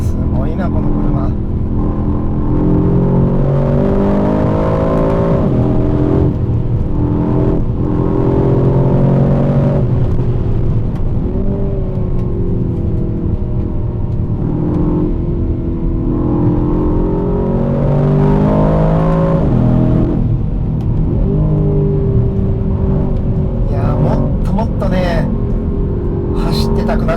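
A 2025 Aston Martin DBX707 super sport SUV pulls hard on a Hakone mountain road, its engine note climbing and falling through gears as someone talks almost continuously over the steady cabin drone.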